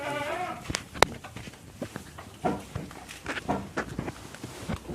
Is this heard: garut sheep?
yes